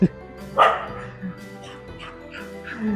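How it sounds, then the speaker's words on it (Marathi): Dogs fighting outdoors, with several sharp barks and yelps in quick bursts, loud and close, over background talk. "तुम्ही बघू शकता इथे कुत्र्याची फायटिंग चालू आहे जोरदार"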